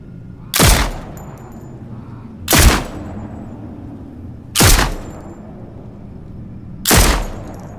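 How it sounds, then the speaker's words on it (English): Four evenly spaced pistol shots from an Unreal Engine horror game, each a loud, sharp crack followed by a short outdoor reverberant tail, with about two seconds of near silence between them. "Here, I'll start by firing the pistol, which will currently have its outdoor tail."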